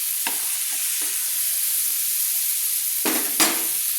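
Prawns fry in hot oil with a constant soft hiss, broken by several short scraping bursts as a slotted spoon lifts them out.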